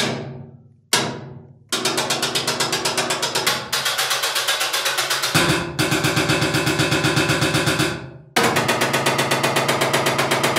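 A sheet metal stick sample from the Vir2 Vital Series library: loud, rapid metallic strikes in fast rattling bursts, almost like machine-gun fire, separated by brief gaps and decaying tails.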